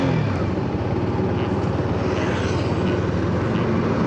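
BMW S1000RR sport motorcycle fitted with an SC Project exhaust, riding along on an evening road, its engine a loud, steady, close-up rasping drone with a rapid pulsing beat throughout.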